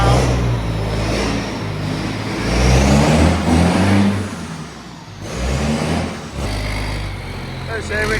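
A tractor engine runs without its exhaust fitted, loud and raw, with the deep rumble swelling and dipping as it revs up and settles back; a voice speaks over it.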